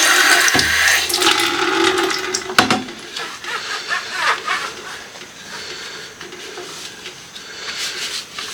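Tap water runs and splashes while a wet vacuum is rinsed off at a household sink, a steady hiss with a brief clunk partway through, loud at first and then quieter.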